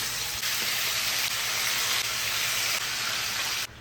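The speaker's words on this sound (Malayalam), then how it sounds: "ഞാൻ ചിക്കൻ ഫ്രൈ ചെയ്തിട്ടാണ് ബിരിയാണി വെക്കുന്നത്." Chicken pieces shallow-fry in a pan ahead of making biryani, giving a loud, steady, close sizzle that holds without pause, then cuts off abruptly, with no voices.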